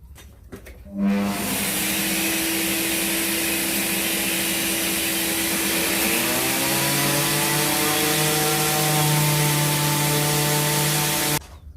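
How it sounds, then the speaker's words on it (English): A power sander sanding wooden frame pieces whines continuously alongside the loud rushing hum of a connected shop vacuum, starting suddenly and running steadily for several seconds before stopping. "Got the sander hooked up to the vacuum. I'm going to now sand these frame pieces down quickly"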